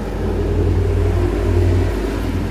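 A Honda Mobilio car engine rumbles loudly and steadily at close range as the vehicle passes, with no talk over it.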